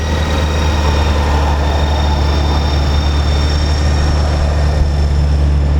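A Honda Gold Wing GL1800 motorcycle running, a steady, loud, close engine drone with a deep low hum and even tone throughout, no revving.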